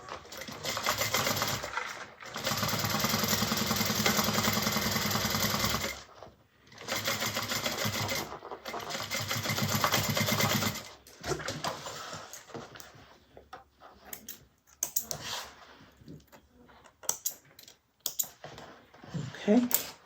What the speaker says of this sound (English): I'm going to run another row of stitching right within the seam allowance.